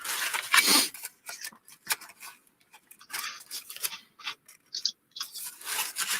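Scissors snip and rasp at a mini bottle rack being trimmed for a craft journal project, in close, irregular bursts of cutting and scraping with short pauses between them.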